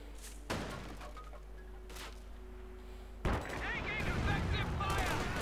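Heavy artillery fire in Company of Heroes 2, a World War II strategy game, with a loud booming impact midway followed by dense rumbling battle noise and crackling explosions, preceded by faint distant thuds.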